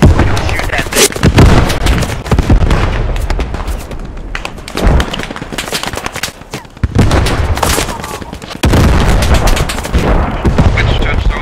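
Loud, dense gunfire and heavy explosions in the World War II shooter Post Scriptum, sustained bursts and booming impacts crowding the whole stretch with brief lulls, voices talking over the battle.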